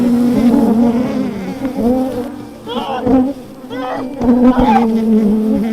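Honey bees from an aggressive wild hive buzz loudly and continuously, a dense steady drone close by with swells as insects pass near, while people talk underneath.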